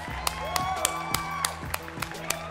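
Applause sound effect: a steady crowd clapping wash punctuated by sharp, evenly spaced loud claps, with a voice or tonal sound running underneath.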